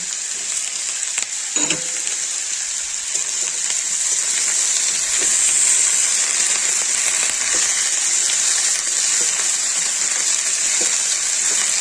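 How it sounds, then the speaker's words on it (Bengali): Eggplant and beans fry in a pan with a loud, steady sizzle throughout. Occasional stirring scrapes sound beneath it. "বেগুন আর শিমগুলো দিয়ে ভালোভাবে ভেজে নেব।"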